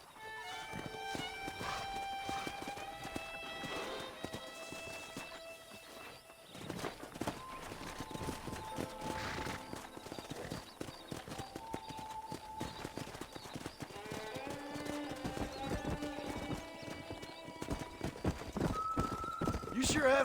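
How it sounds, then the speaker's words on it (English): A pack of wild horses in the Red Dead Redemption video game gallop past with continuous clip-clopping hooves and several loud whinnies, set against a bed of melodic game music. "That ranch hand said there's a pack of wild horses nearby."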